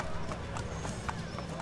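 Horse galloping in Assassin's Creed: Brotherhood, with quick rhythmic hoof clip-clops under a constant game background rumble during a brief stretch of gameplay.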